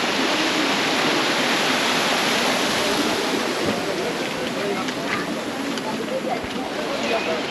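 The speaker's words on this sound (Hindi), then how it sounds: "और ये अभी वाटरफॉल छोटा सा" A small waterfall on the Amarnath trail in Kashmir rushes in a steady, dense broadband roar throughout. It sounds close and continuous, with nothing else standing out.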